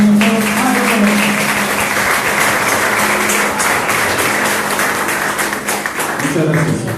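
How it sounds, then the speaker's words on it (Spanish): Sustained audience applause fills the room at a political science school panel discussion on Venezuela, a dense, steady wash of clapping from many hands lasting throughout, with faint voices mixed in near the end. "Un aplauso"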